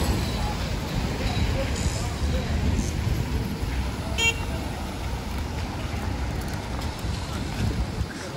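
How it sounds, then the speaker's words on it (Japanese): Heavy road traffic rumbles steadily along a suburban street in Songjiang, Shanghai, a dense continuous roar with a brief horn toot midway, heard from the roadside. "すごい交通量が多いですね。"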